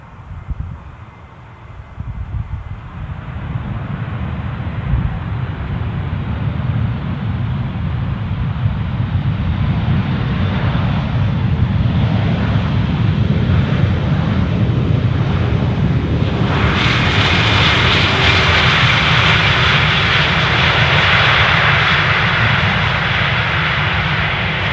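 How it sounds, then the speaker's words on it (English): A British Airways Airbus A320 jet arrives at Amsterdam Schiphol, its engine roar swelling from a quieter start into a loud, sustained rushing drone with wind noise on the microphone. "So next inward, thanks Ken, is a British Airways A320 from London Heathrow."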